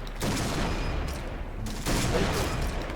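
Rapid gunfire in the online shooter Point Blank, dense sustained bursts of shots with a brief lull partway through, loud and continuous.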